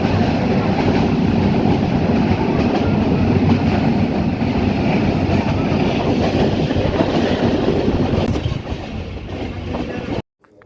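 Kalni Express passenger train running on rails between Sylhet and Shaistaganj, a steady loud rumble and rattle heard from inside the carriage, fading out abruptly at the end.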